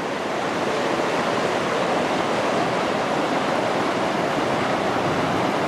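The San Gabriel River running high after recent rains, a steady broadband rush of flowing water close by, continuous and even with no voices.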